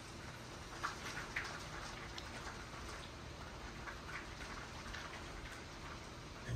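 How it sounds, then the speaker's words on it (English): Steady rain falls at night outside the historic Lakeside Inn hotel in Mount Dora, Florida, a continuous soft hiss of drops pattering on surfaces with no voices. "I actually woke up in the middle of the night to the rain and I filmed a little segment of it"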